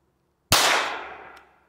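A single sharp metallic clang as a CCI Mini Mag .22 bullet strikes the lower right corner of a TEMU body armor plate advertised as Level IIIA, loud and close with a ringing tail that fades over about a second.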